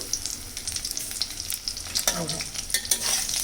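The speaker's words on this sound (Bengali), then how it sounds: "সমস্ত উপকরণ মাখিয়ে গরম তেলে ছেড়ে দিচ্ছি" Spiced cauliflower florets, coated in cumin powder, ginger paste and green chili paste, sizzle in hot oil for pakoras, a close crackling fry broken by stirring clatter and a brief louder burst of spitting oil.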